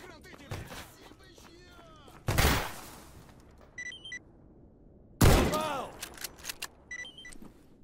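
Two loud shotgun blasts ring out in the S.T.A.L.K.E.R. GAMMA video game, each a sharp close crack with a booming echo, several seconds apart, with small mechanical clicks between them.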